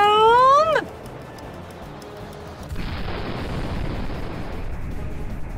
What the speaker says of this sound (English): Oh my god, that's a big kaboom!